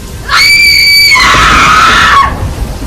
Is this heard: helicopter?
no